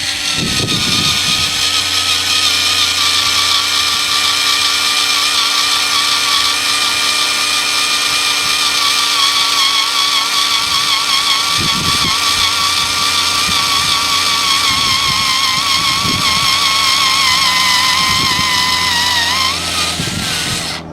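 A continuous high-pitched electric motor whine from a DOVAMAN electric screwdriver drilling runs steadily for about twenty seconds, loud and close, with faint clicks underneath and a slight drop at the end.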